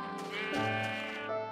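Sheep bleating in Minecraft, a single wavering, nasal bleat lasting over a second, fairly close and clear, with no talk over it.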